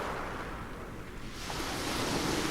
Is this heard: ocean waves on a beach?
yes